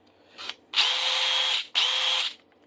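A cordless DeWalt-style power tool on a large 8 amp-hour FlexVolt battery whirs up in two loud, steady bursts, each spinning at high speed for about a second before stopping, with a brief faint blip just before.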